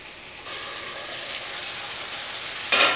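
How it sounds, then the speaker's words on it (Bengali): Small mola fish chorchori with eggplant and potato simmering in a covered pan, a steady close sizzle and bubbling that swells louder at the end, no voices. "এখন আমি এটাকে ঢেকে দিলাম, ঢেকে রান্না করব 15-20 মিনিট।"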